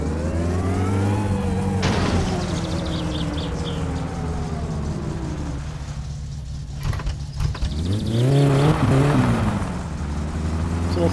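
A tuned engine on a homemade car revs up sharply and climbs high, falls away, then revs again with a rising, strained tone; no one speaks.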